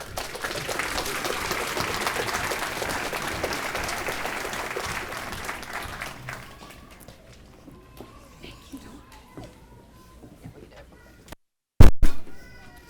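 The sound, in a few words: audience applauding at school celebration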